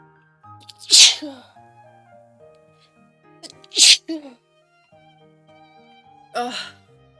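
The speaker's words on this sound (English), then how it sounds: "I'm about to sneeze" Three sharp sneezes ring out at about one-second, four-second and six-second marks, each a sudden burst over quiet background music.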